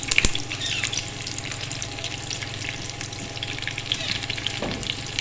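Chicken tandoori sticks fry in a pan over a low flame, giving a steady, close sizzle and crackle with a watery hiss throughout and no talking.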